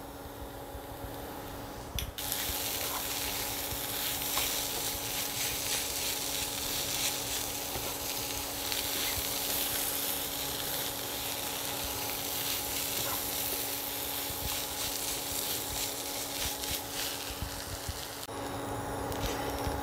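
A filling of paneer and potato with dry-roasted ground coriander, cumin, dried chilli and a little sugar sizzles and fries steadily in a pan, a dense close hiss with occasional stirring that lasts throughout.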